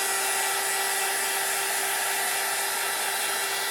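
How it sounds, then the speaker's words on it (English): A heat gun blows hot air in a steady, loud, continuous roar with a high whine running through it, close up and unbroken by any talk. "with your heat gun."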